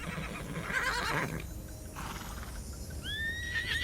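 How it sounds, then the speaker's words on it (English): Butt Stallion, a diamond horse in the video game Tiny Tina's Wonderlands, lets out a loud, rising whinny near the end, following a stretch of busy in-game background noise. "It's a diamond horse"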